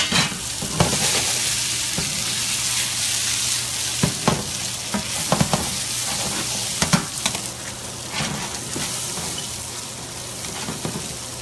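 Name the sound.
green beans frying in a pan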